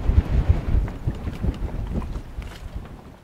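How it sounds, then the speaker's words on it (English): Gusty wind buffeting the microphone aboard a sailboat near the 1000 Islands, heavy low rumbling bursts that rise and fall unevenly with faint water sounds beneath. "There's some pretty big gusts that come through."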